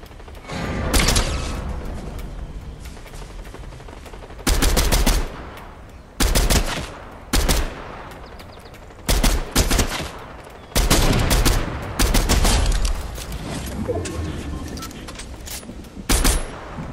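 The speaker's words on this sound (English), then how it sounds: "We've got shooting all around us." Gunfire in the Fortnite video game: loud bursts of rapid automatic fire and single shots come in clusters across the stretch, separated by brief quieter gaps, with no talking.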